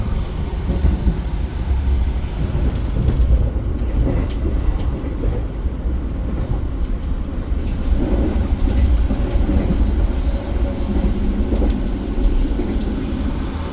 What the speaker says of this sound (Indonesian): Kita melintas langsung di jalur 2 stasiun Cirebon, teman-teman.